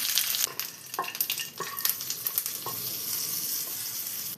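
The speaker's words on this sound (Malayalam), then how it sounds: "ഇപ്പോൾ കടുക് പൊട്ടി വന്നിട്ടുണ്ട്" Mustard seeds splutter in hot oil while tempering for chutney: a steady sizzle broken by sharp, irregular pops and crackles close by.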